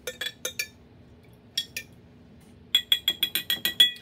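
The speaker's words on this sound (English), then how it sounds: "Gonna rinse the probe in some dirty acetone." A metal probe is rinsed in dirty acetone in a glass container, giving short bright clinks that come in a quick cluster, pause, then return as a rapid run of sharp, close taps over a faint steady hum.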